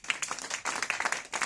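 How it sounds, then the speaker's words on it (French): A small audience applauds at a French stand-up comedy show, a quick, fairly faint burst of scattered hand claps with a few louder individual claps standing out. "je pense qu'on peut applaudir"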